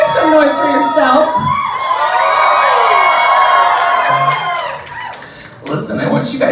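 Drag show crowd roaring with cheers, whoops and shouts in a sustained swell that peaks, dips briefly and surges again, loud and close throughout.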